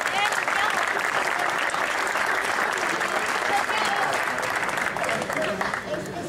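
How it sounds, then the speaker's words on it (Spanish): A crowd claps for Santiago at a tribute event to Benito Pérez Galdós, steady full applause lasting several seconds, heard at a moderate distance with a murmur of voices underneath. "Un aplauso para Santiago."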